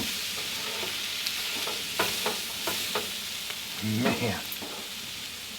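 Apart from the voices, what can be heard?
sausages and onions frying in a pan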